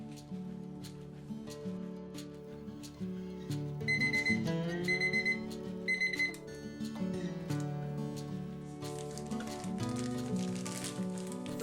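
Repeated electronic kitchen-timer alarm beeps ring out in short bursts over steady background music with sustained instrumental tones.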